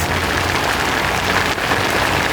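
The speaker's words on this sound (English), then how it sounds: "we waited out the afternoon downpour" Heavy afternoon rain pounds on a tuk-tuk roof in Sri Lanka, a dense, loud, unbroken hiss and patter close around the cabin.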